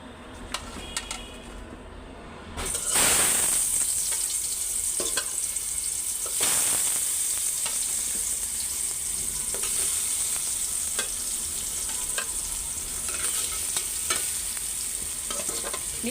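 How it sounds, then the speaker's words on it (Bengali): Sweet pumpkin pieces drop into a hot pan and burst into a loud, steady sizzle, frying continuously with occasional clicks of stirring close by. "তো আগে মিষ্টি কুমড়াটা ভাজতে দিয়ে দিই।"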